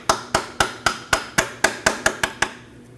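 A hammer taps a new front lower ball joint into place on a 2003-2008 Subaru Forester, giving about ten sharp, evenly spaced metallic strikes with brief ringing decay, close and loud with no talk.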